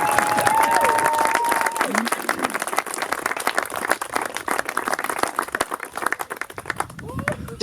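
Wedding guests clap and cheer just after a couple is pronounced husband and wife, a lively burst of crowd applause with a voice and other voices mixed in.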